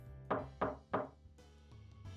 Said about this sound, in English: only stopping when someone knocks slightly at the door